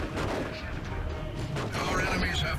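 A grenade blast in the Warhammer 40k strategy game Dawn of War 2 Retribution rolls through dense battle noise of gunfire and explosions, loud and continuous, with a voice talking underneath.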